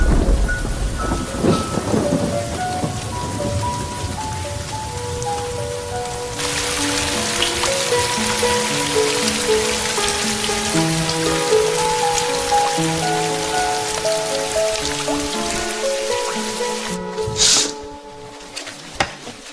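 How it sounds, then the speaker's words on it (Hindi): Heavy rain pours steadily with a low rumble of thunder beneath it, while soft tonal music plays over the storm. "कल तक बारिश रुक जाएगी"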